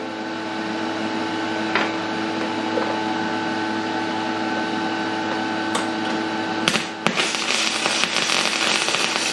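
Arc welding on a steel pallet puller at a workbench, a steady close crackling hiss with a sharp burst of sputtering pops near the end.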